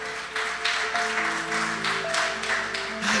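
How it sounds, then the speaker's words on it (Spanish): Church congregation at a Spanish-language sermon gives a strong round of applause, rhythmic claps pulsing steadily over sustained organ or keyboard chords. "Dele un fuerte aplauso al Señor"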